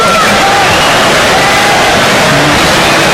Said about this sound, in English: round of applause from the fans